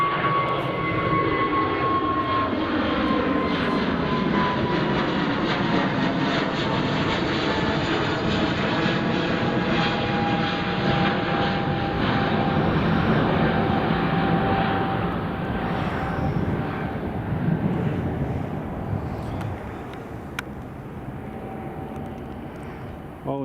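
A Delta airliner landing at Edinburgh Airport, a loud continuous jet roar with a whining engine tone that builds, then slowly falls away toward the end, heard from nearby with no voices.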